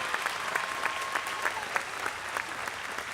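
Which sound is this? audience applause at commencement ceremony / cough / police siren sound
audience applause at commencement ceremony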